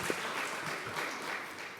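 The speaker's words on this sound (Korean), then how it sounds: "선생님들에게 다시 한번 박수하겠습니다" In a Korean church service, the congregation briefly applauds the educators and teachers with a steady burst of many hands clapping nearby.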